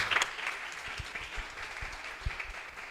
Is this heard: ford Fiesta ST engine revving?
no